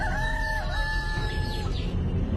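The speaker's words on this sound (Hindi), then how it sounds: "ये किसी गांव के मुर्गे की बांग थी" Village rooster crowing once, a clear drawn-out call at moderate distance over steady low background noise, fading into quiet.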